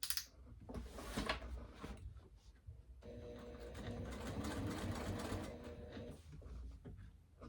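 A sewing machine runs in a single sustained burst near the middle, a close, even mechanical whirr of rapid needle strokes, framed by softer handling clicks and shuffling before and after.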